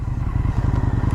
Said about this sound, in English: That exhaust sounds nice though. Pops away on overrun, which is cool.